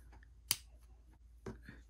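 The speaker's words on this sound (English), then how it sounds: "I'm using the scissors from the dollar store. And I use it for anything that's super hard, like a metal or chipboard." Dollar-store scissors cut excess metal prongs on a junk journal binding, giving two crisp, sharp snips about a second apart in a quiet room.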